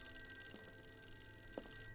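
A telephone rings inside the Call of Cthulhu video game, its bell coming in two short bursts over a steady hum of background ambience, moderately loud and heard alone without talk.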